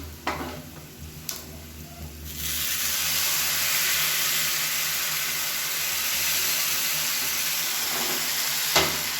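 Asafoetida tempering poured into a pot of sambar, starting with a couple of light clinks, then a sudden loud, sustained sizzle that stays steady for several seconds before a final clink near the end.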